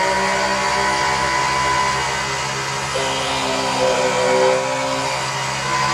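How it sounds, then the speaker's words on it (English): A mini drill press motor whines steadily at high speed drilling 3/4 inch pine, a continuous buzzing drone with no pauses, close and fairly loud. "Seems to have plenty of torque. Go right into that 3/4 inch pine."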